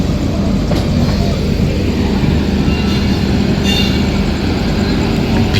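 The Puri Express sits at a busy station, a continuous heavy rumble of rail cars and machinery close by, with faint metallic clanks rising over the din.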